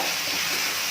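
Masala sautéing in oil in a pan, a steady close hiss and sizzle with faint stirring, brief and without any talk.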